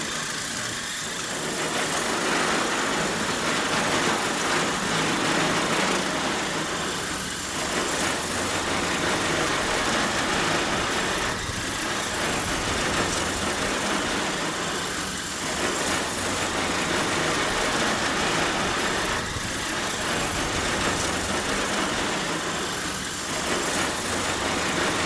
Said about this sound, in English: Starting off with the chain brush for the main surface.